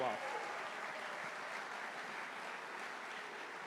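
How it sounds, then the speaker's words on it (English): Steady, dense applause from a large evening audience of about 500 people, many of them students, at an event at the Nixon Library; distant and fairly soft, holding at an even level throughout. "So let's give them a round of applause for being here"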